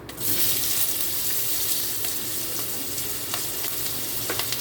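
Skin-on potatoes fry steadily in hot oil as the first batch for a dahi cauliflower-and-potato roast, a loud, dense sizzle that holds evenly from start to finish, with a few faint clinks and no talking.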